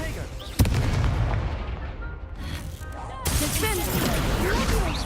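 An Expelliarmus spell cast in the video game Hogwarts Legacy hits with a sudden sharp burst, then gives way to rumbling combat noise and a bright, swelling magical whoosh near the end.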